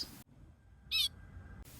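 A pika (Ochotona) gives a single short, high-pitched squeaky call near the middle, loud against a quiet background with a faint steady tone under it.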